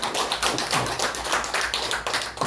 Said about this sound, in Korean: 좋은 강의 해주신 이대경 선생님께 큰 박수 부탁드리겠습니다